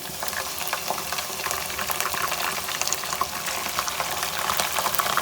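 Minced meat (keema) fries in a pan with onions, giving a steady, dense crackling sizzle with scattered pops throughout. No voices are heard.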